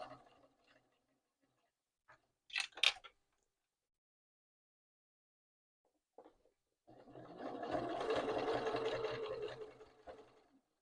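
A sewing machine stitches fabric around sewn-in magnets. A few short ticks and clicks come first, followed by a steady whirring run of stitching for several seconds, close by and alone.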